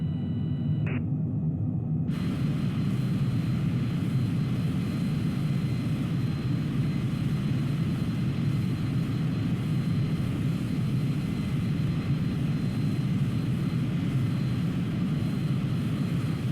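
An RQ-4 Global Hawk drone in Microsoft Flight Simulator gives a steady, broad jet-engine roar that fills the scene, constant and moderately loud after a brief quieter start, with no talk.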